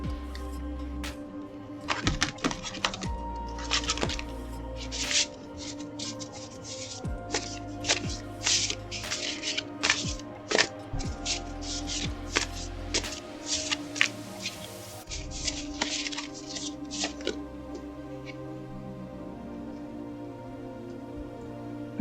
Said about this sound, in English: I'm going to choose a card from the Shaman's Dream Oracle.